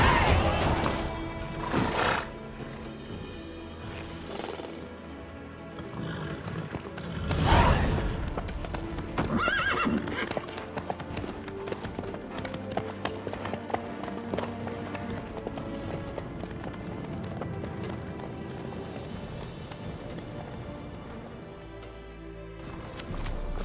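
A horse in The Witcher 3 video game clip-clops along at a steady gait for the whole stretch, hooves loud and rhythmic over a dense game soundscape with a brief neigh-like burst; no talking.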